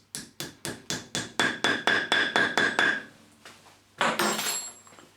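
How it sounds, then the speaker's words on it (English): A hammer taps plastic wall plugs into a wall with about a dozen sharp, evenly spaced strikes, a short pause, then one more ringing blow; close and fairly loud with no talk. "Now I'm going to tap those in using a hammer."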